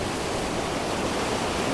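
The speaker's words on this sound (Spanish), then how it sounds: "Lo único es aquí ver el mar como entra por debajo de la lava volcánica, y sale por aquí por las rendijas estas." Sea water surges beneath volcanic lava at Charco Manso on El Hierro, escaping through cracks in the rock as a steady, close, hissing rush of broadband water noise, with no voices.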